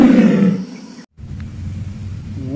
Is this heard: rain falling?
no